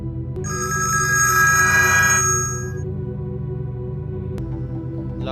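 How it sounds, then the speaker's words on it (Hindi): A telephone rings with a bright electronic ringtone, one sustained trilling burst that stops after a couple of seconds and leaves a low background hum, with no one speaking. "लाकड़ा भाई को फ़ोन करना पड़ेगा।"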